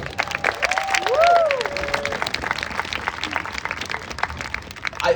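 Crowd applause at a hypnotist show at a county fair, with a brief whoop rising over it, steady individual claps continuing throughout at moderate volume.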